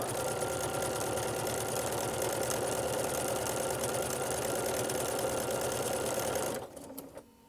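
A sewing machine stitching fabric for a sunflower table topper with a quarter-inch seam, a fast steady mechanical whirring hum held loud and close for several seconds before it stops abruptly near the end.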